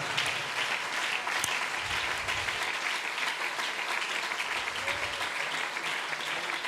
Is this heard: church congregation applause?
yes